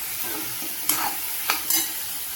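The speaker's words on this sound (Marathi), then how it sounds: "वांगी पण बघा छान अशी परतलेली आहेत। आता वाटाणा टाकते। चांगलं परतून घ्यायचं।" Eggplant and peas being sautéed in a pan, with a steady background sizzle and a few sharp scraping strokes of a spoon stirring the vegetables at close range.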